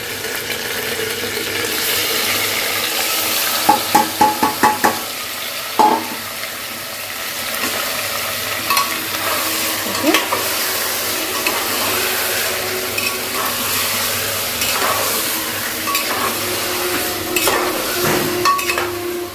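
Marinated mutton sizzles and fries in a pan with spiced onions, with steady hissing broken by clattering bursts of stirring and scraping, close and fairly loud throughout.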